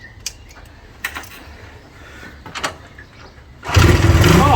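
A classic Honda motorcycle engine, from a restored CB125 or CB360, fires up for the first time after a few faint clicks and knocks, then runs loud and close in a steady rough idle.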